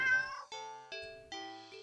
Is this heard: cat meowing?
yes